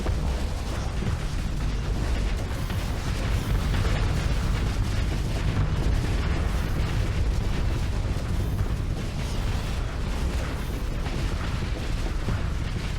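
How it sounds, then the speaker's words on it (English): A siege laser firing in a Starsector space battle: a dense, continuous roar of booming blasts and crackling bursts, loud and unbroken for the whole stretch, with no talking. "this guy's in range of the siege laser, and the siege laser he's going to get"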